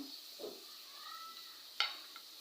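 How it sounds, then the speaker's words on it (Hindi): Onion and garlic frying in a pan for aloo gobi give a steady, soft sizzle. A brief stir and one light clink of a utensil against the pan sound over it. "लहसुन को हम 2 से 5 मिनट के लिए भून लेंगे।"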